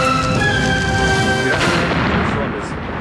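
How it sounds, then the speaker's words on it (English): A car blowing up in a movie scene: a booming explosion effect with a sharp onset midway that rumbles and fades out over a couple of seconds, following a tonal musical passage. "this movie is too budget-conscious to have an explosion, so just settle for hearing the sound of it"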